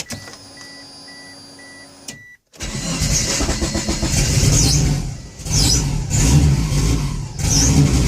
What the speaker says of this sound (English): let's try starting it again